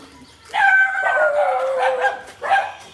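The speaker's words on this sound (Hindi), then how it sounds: "गली के गुंडे डॉगिस भाई आ चुके हैं।" Dogs on a village street bark and yelp in a loud, close burst, a few overlapping barks running together before a short final yip, with no talking.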